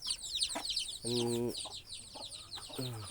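Chickens cluck nearby in short repeated calls, with a louder drawn-out cluck, over a background of chirping birds.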